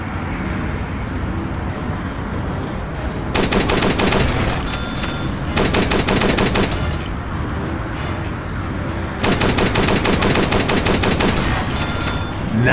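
Machine gun fire from the video game Dead Trigger 2, loud rapid automatic bursts repeating in several long volleys, separated by shorter gaps filled with background game noise.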